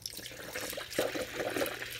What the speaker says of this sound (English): Pour in the coolant.